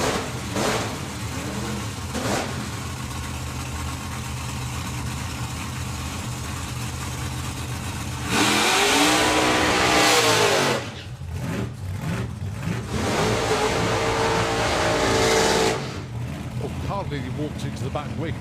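Two supercharged drag racing cars at Santa Pod Raceway, engines idling and rumbling under a commentator's voice, then a loud roaring burst for several seconds followed by another sustained roar.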